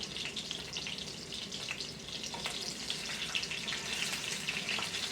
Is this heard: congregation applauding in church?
no